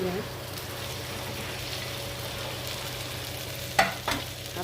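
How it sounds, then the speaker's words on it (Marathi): Okra frying with onion and spices in a pan, a continuous soft sizzle under a low background hum, with a couple of sharp spatula knocks and scrapes near the end as it is stirred. "आता परत हलवून घ्या"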